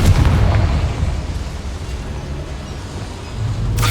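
A Confringo spell blast in the video game Hogwarts Legacy, set in a mine: a loud, low booming burst at the start that rumbles and fades, with a second swell of rumble near the end.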